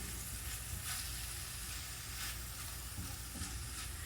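Macaroni salad and sausage warm in a pan with a steady, soft sizzle and faint crackle, broken by occasional stirring clatter.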